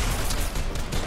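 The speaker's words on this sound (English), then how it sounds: "He's just shooting at nothing." Gunfire in a Fortnite match, a dense, continuous burst of rapid shots heard loud and close for about a second without any voices.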